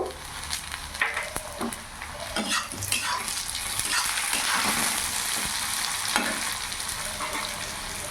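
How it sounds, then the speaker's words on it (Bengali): Onions sizzle steadily in a hot pan for chicken curry, with occasional stirring scrapes and clinks, close by and without any talking. "পেঁয়াজটা ভাজা ভাজা হয়ে গেছে"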